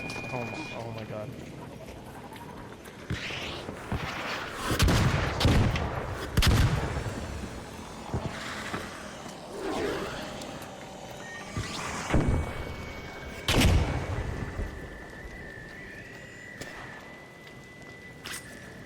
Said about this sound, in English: Why are you still shooting me if you can't see me